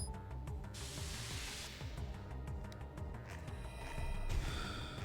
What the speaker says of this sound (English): He hit it with a pepper spray twice.